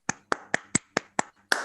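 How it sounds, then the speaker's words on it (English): Seven sharp, evenly spaced hand claps ring out in quick succession for a prize winner, close and fairly quiet, from what sounds like a single person rather than a crowd. "so a big round of applause for him"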